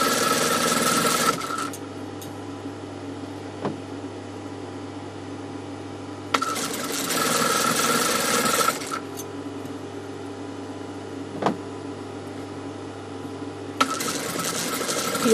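Sewing machine stitching a dhoti salwar along an ironed crease: several loud, steady whirring runs of several seconds each, separated by quieter pauses with faint handling clicks.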